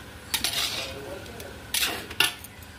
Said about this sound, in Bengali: দিয়ে এটাকে আমি একটু চাপা দিয়ে দেবো।